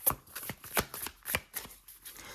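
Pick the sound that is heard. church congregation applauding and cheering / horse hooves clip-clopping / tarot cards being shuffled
tarot cards being shuffled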